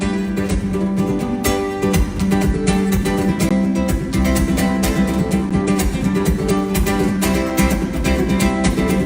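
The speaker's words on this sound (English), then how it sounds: "I think this ukulele is absolutely fantastic." An amplified ukulele plays continuously, strummed and picked with bright, steady chords ringing out clearly on their own.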